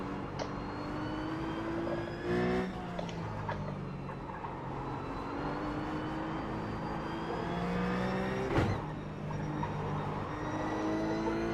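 A RUF Cup race car at Summit Point Raceway in iRacing revs with rising engine pitch through the gears, punctuated by sharp shift cuts, steady and loud throughout.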